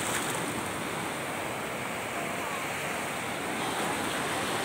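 Surf washing in at Kualo beach, a steady broadband roar of breaking waves with some wind, continuous and fairly close for the whole stretch.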